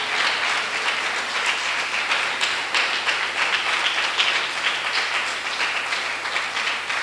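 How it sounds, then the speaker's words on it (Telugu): A congregation claps at a Telugu Christian ministry gathering. The applause is loud and sustained for about seven seconds, with crisp individual claps rippling through a dense, steady mass of hands. "ఇప్పుడు చప్పట్లు కొట్టండి"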